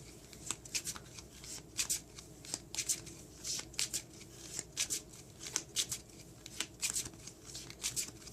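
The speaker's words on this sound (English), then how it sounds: "I'm just going to give them another quick shuffle just like this" Tarot cards being given a quick shuffle by hand, a steady run of crisp riffling bursts repeating roughly every half second, close and fairly quiet, with no talking.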